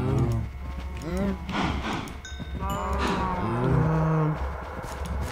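Cows moo in the video game Technomancer, several long, deep lowing calls overlapping and repeating close by over a low rumbling background, with no talk.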